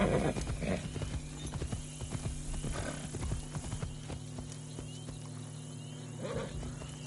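Horse hooves clip-clop in a steady rhythm with a whinny from a summoned horse in the video game Assassin's Creed Shadows, layered over game music and ambience, fairly close and moderately loud.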